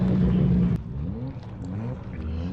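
A Nissan GTR and a Toyota Supra roll into a casual end-of-season cars and coffee meet, with a loud low engine drone that drops off sharply, then steady idling and rumbling close by; a voice talks over it.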